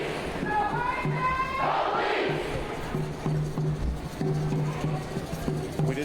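Protesters march down Broadway at night, chanting in rhythmic repeated phrases as a large crowd. Voices rise and fall in steady cadence, while a reporter's voice and occasional whistles or shouts sit over the chant.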